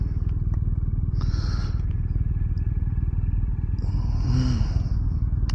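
A 2024 Harley-Davidson Road Glide police bike with a 103 engine rumbles steadily while riding toward Lake Travis, a continuous low throbbing drone with wind noise and brief rising tones near the end.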